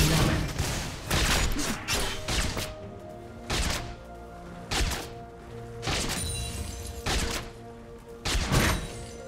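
Video game gunfire, loud sharp shots coming singly and in short bursts about once a second, with a hard impact crack among them and steady game sounds underneath.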